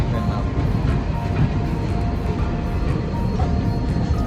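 A steady, loud low rumble as two trains pass each other at night fills the whole stretch, with faint rhythmic clatter over a constant roar and no voices.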